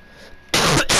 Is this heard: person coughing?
yes